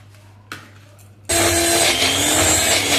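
A kitchen mixer grinder switches on and whirs loudly and steadily while blending chillies, garlic, ginger and onion for a batter, after a brief quiet moment with a small knock.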